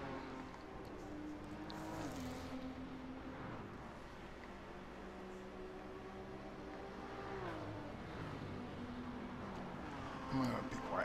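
Several race car engines in Gran Turismo 7, a Touring Car 600 race on the Tokyo Expressway, drone and rev steadily throughout, with shifting pitch sweeps as cars pass and a brief louder burst near the end; no one speaks.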